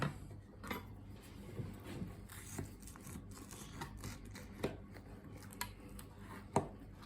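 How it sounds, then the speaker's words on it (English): A hand saw rasps through lamb bone while a rump section is butchered, a steady low scraping under irregular sharp clicks and knocks from the blade and carcass, close and fairly quiet. "So in with our saw. Once we're through the bone, stop."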